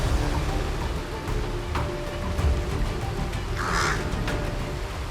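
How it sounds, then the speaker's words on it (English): Crow calling outdoors, a single brief caw standing out near the middle over steady rain-like background noise and a low rumble, with a few faint bird calls around it. "the crow has a very intelligent brain and a sharp beak as hard as iron"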